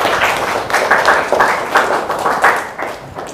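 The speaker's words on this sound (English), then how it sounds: "we have to give applause to group" A classroom of high school students applauds a student group, a dense burst of clapping that swells and eases in waves, fairly loud and close throughout.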